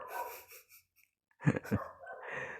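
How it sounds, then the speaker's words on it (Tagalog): A dog barks during a power outage, with two loud, close barks after a stretch of breathy, whimpering sounds, then a rough trailing growl. "Tahol lang ng aso dahil walang kuryente."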